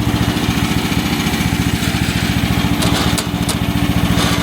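A steady, close mechanical drone from a 1.5-ton mini excavator's small engine with a rapid rhythmic chugging throughout, and a few brief higher whines and clanks from the boom swing near the end.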